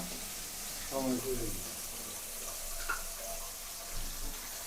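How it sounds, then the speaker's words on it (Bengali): Fish frying in a pan alongside a vegetable curry cooking on the other side, a steady sizzling hiss throughout with brief clinks and a voice talking over it near the start. "এক পাশে মাছ ভাজি আর এক পাশে তরকারি।"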